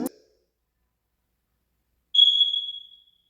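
A single high-pitched electronic beep from a smoke detector in a new-construction building sounds after a short silence, clear and sustained for about a second before fading.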